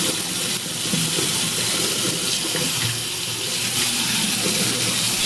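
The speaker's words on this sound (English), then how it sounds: "There is the side trimmer, which also can be washed in the hot water." Hot water runs from a tap over a Philips Norelco 3100 electric shaver's side trimmer, a steady close rushing splash that continues without a break.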